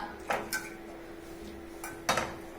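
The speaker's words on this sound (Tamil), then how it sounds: "தோரம் பருப்பு வறுக்கிறது நல்லா" Toor dal is dry-roasted in a pan without oil and stirred, giving a few sharp metallic clinks and scrapes of utensil on pan against a quiet background.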